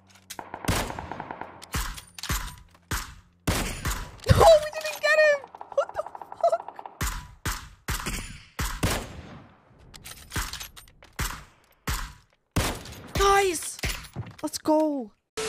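Video game gunfire comes as sharp, loud, separate cracks in irregular bursts across the whole stretch, with short gaps between shots and a few whistling and chirping game effects mixed in.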